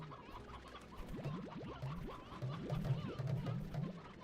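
Several hens in the video game Slime Rancher cluck in short, repeated bursts that cluster and grow busier toward the end, with a steady game background underneath.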